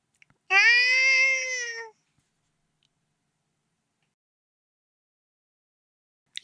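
A human voice imitates a cat in heat with one drawn-out, wavering yowl lasting over a second, loud and close, followed by silence.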